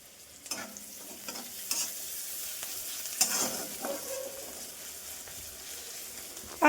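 Onions and cabbage fry in a wok while a spatula scrapes and stirs in irregular strokes over a soft, constant sizzle, with no one speaking.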